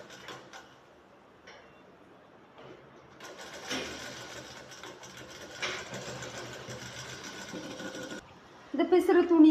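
A sewing machine stitching along the edge of a shirt collar, starting with a few scattered clicks before settling into a steady mechanical whir in short bursts, with a voice briefly speaking at the end.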